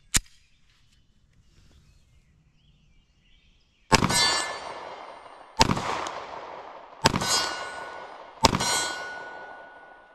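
A Glock 26 pistol fired at an outdoor range from about 20 yards, four loud, sharp cracks spaced a second or two apart, each ringing out with a metallic tail after a quiet pause and one faint early pop.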